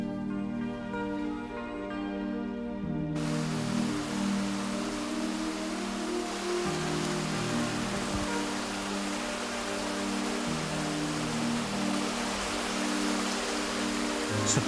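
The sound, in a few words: stream water flowing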